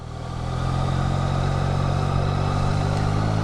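A 600cc superbike engine idles steadily at around 2000 rpm in a close, continuous, loud low rumble with no voices.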